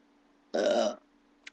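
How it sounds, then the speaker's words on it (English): A single loud, close human burp lasting about half a second, followed by a faint short vocal sound, in an otherwise quiet room. "I burp in YouTube videos."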